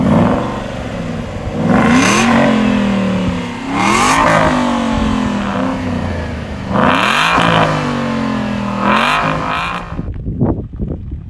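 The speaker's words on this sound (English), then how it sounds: "if you listen to how good this exhaust sounds" An Aston Martin V8 Vantage Roadster with an aftermarket exhaust revs hard several times in bursts, each rising throaty roar dropping back between blips, close and loud, ending with crackles as it fades.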